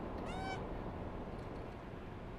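A cat in the video game Stray gives a single short meow near the start, followed by quiet background noise from the game.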